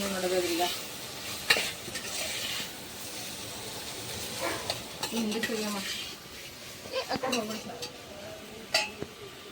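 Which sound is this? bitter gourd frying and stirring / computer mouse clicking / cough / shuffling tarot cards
bitter gourd frying and stirring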